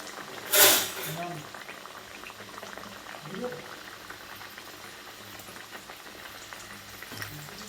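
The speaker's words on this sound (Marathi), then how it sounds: "तर आता खाजा तळून घेते बघा मी" Layered khaja pastries deep-fry in hot oil with a steady, close bubbling sizzle that runs throughout, broken by a few louder splashes.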